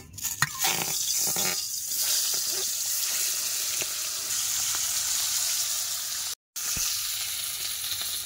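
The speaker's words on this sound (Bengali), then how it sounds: "কড়াই চাপিয়ে দিয়েছে, কড়াইতে তেল দিয়ে এখন মাছগুলো ভেজে নেবে।" Tangra fish frying in hot oil in a kadai wok, a steady loud sizzle with crackling spatter that runs nearly the whole time, briefly cutting out near the end, with no talking.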